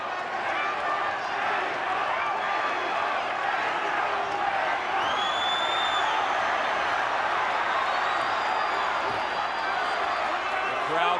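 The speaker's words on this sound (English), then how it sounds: "The crowd building support." Boxing arena crowd at a Ricardo Mayorga versus Fernando Vargas fight, a steady loud roar of cheering and shouting that holds for the whole stretch with no break, voices blending into a dense wash.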